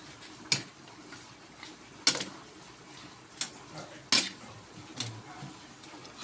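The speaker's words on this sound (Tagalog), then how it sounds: "Haluin natin muna para maano yung gulay" A utensil clinks and scrapes against a pan while vegetables are stirred for pancit, giving a handful of sharp metallic knocks spaced a second or two apart over a soft background hiss.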